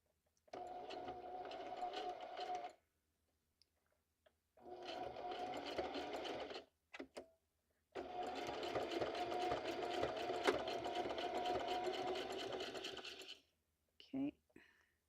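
A sewing machine stitching pages of a junk journal runs in three long bursts of steady, close mechanical whirring, separated by pauses with brief clicks and handling noise.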